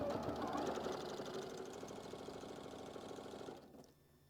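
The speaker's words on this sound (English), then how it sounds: "we're just going to go ahead and sew all the way down" A sewing machine runs steadily at close range, stitching fabric pieces for a quilt block in one continuous mechanical whir that cuts off near the end, leaving quiet.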